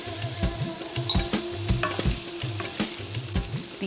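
Ground coriander, garam masala and turmeric sizzle in a hot pan while a utensil stirs and scrapes the bottom in a steady rhythm of repeated scraping strokes over continuous frying crackle, close up with no voices.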